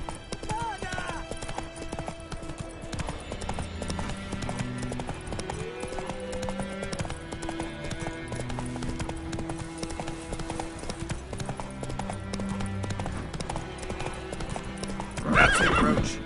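Roach, Geralt's horse in The Witcher 3, gallops with rapid, rhythmic hoofbeats under a steady musical score, and a brief whinny breaks through near the end. Game speech is also present.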